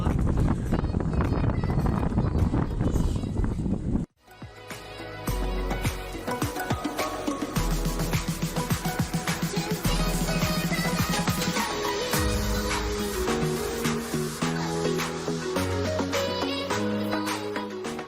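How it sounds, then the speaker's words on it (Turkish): Heavy wind buffets the microphone with a low, steady roar for a few seconds by a river, then cuts off as music begins. "Çok fazla rüzgar var."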